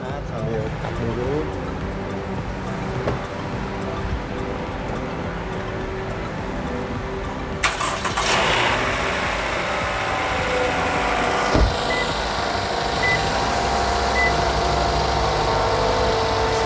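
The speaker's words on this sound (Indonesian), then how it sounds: "ketika dihidupin, tadi kan ketika di starter dia langsung nyala ya." A used car engine, started straight away without long cranking, settles into a steady idle, a constant low mechanical hum with a brief louder catch as it fires, while people talk over it.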